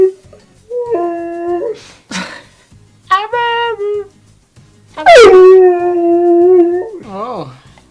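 A husky howls in long rising and falling wails, several drawn-out cries with short breaks between them, loud and close, with a person's voice heard between the howls.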